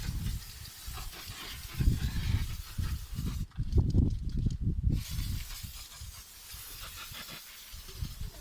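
Würth engine cleaning spray hisses steadily onto an engine in several sustained, fairly close bursts, each a broad rushing spray with brief breaks between them.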